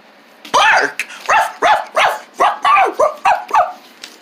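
Dog barking on command, a series of about ten short, loud, sharp barks in quick succession, each fairly close and clear.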